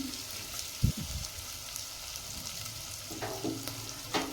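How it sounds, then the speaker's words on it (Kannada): Onion frying in a pan with tomato about to join it, giving a soft steady sizzle with a few stirring knocks and clatters, close and moderately quiet. "ಅದಕ್ಕಂತ ಉಳ್ಳಾಗಡ್ಡಿ ಸ್ವಲ್ಪ ಫ್ರೈ ಆದಮೇಲೆ ನಾನು ಟೊಮೆಟೊ ಹಾಕ್ತೀನಿ."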